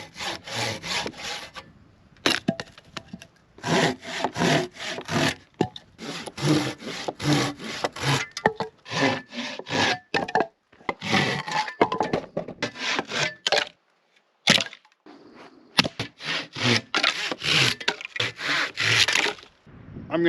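Firewood logs are cut with a hand saw at a camp in bear country, sounding as loud close rasping strokes in quick rhythmic bursts with short pauses between runs.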